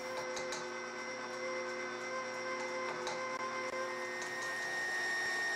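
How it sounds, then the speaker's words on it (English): An electric mixer beats cream cheese cake batter with a steady, faint mechanical whir and hum, with light ticking clicks scattered throughout and no talking. "I speed up the mixer to fully mix"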